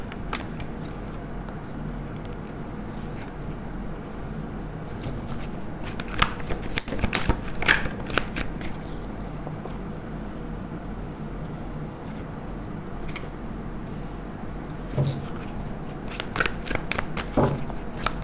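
Tarot cards being shuffled by hand, repeated soft riffling and flicking bursts, close and fairly quiet, with a few louder snaps.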